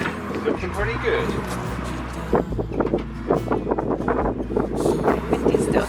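Gusty wind buffets an outdoor camera microphone beside a vintage coffee and cake van on a stormy day, a steady low rumble with loud flapping bursts throughout, and a voice speaks over it in places.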